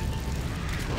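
A weapon reload in Left 4 Dead 2: a brief mechanical clatter of parts over dense, constant game noise.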